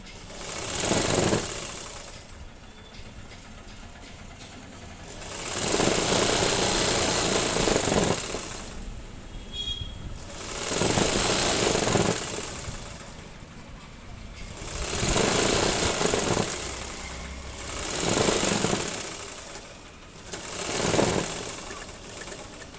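A sewing machine stitches a salwar in repeated bursts of fast mechanical chatter, each run lasting a few seconds and separated by quieter pauses, close and fairly loud.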